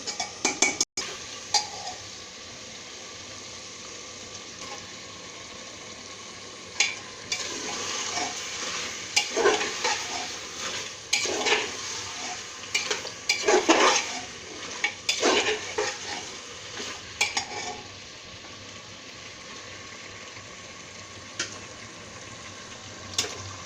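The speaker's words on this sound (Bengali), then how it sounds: "এখন আমি মাংসটা দিয়ে দেব, একটু করে দিব, একটু করে মিশাবো।" Beef being added and stirred into a pressure cooker pot for a beef and potato curry, a soft continuous sizzle with repeated scraping and clanking of a spoon against metal, close and moderately loud, with no talk.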